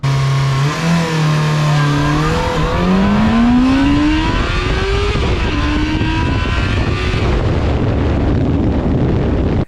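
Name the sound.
Yamaha FZ6 motorcycle launching and accelerating hard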